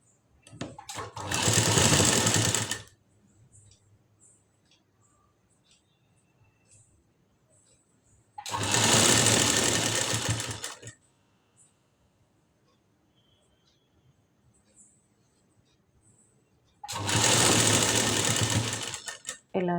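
Sewing machine stitching a blouse collar, three loud steady runs of rapid whirring stitches with quiet gaps between where cloth is handled.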